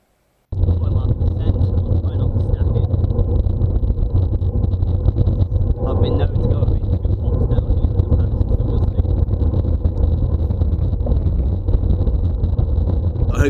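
Steady, loud wind roar buffets a bike microphone during a fast descent of the Moyle Arthur hill, a constant rushing drone with no speech.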